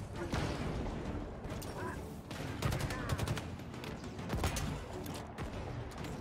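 Halo Infinite campaign firefight: dense, continuous volleys of gunfire with repeated sharp cracks over a constant roar of battle, close and loud throughout.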